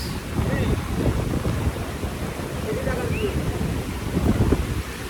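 Strong wind buffets the microphone while surf rolls in at the seashore of Port Dickson, a loud, steady roar with broad noise and swelling wave washes throughout.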